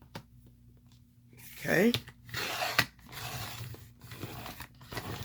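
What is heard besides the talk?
cutting a cardstock strip with scissors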